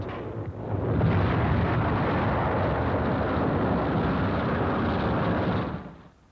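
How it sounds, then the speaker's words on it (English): Bombs bursting on a bridge between the Normandy invasion coast and Paris in a WWII newsreel, a sustained, loud, broad roar of explosions rumbling for several seconds before cutting off. "Here is real pinpoint bombing."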